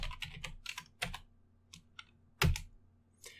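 Quick, uneven clicks of keys being typed on a computer keyboard, close by, in short bursts with a louder keystroke near the end.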